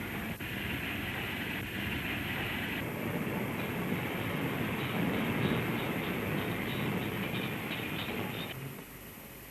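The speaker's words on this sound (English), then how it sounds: "Vacuum tested, headlamp fixed, and Potter moves his engine off the shed to join his waiting train." A 1939 LMS steam locomotive pulls slowly off the shed. A steady, continuous rumble and hiss holds throughout, then eases off near the end.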